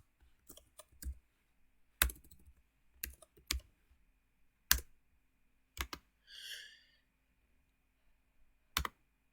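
Typing on a computer keyboard while entering registry values during a Windows 11 install on an unsupported PC: short bursts of close, crisp key clicks with pauses between them, plus one brief soft breathy sound.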